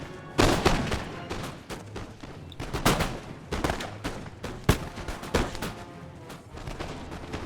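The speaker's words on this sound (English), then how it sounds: "So here my men are firing away." Musket volleys in the strategy game Napoleon: Total War, with militia National Guard units firing: ragged bursts of crackling gunshots overlapping in uneven waves, dense and fairly loud, no speech.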